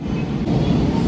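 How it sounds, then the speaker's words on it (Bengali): A Kolkata Metro Orange Line train carries riders between stations, a loud, close low rumble of wheels and car body with a brief shift midway, continuous throughout. "প্ল্যাটফর্ম চেঞ্জ করে এবার আমি 2 নম্বর প্ল্যাটফর্ম থেকে আবার ট্রেনে উঠেছি।"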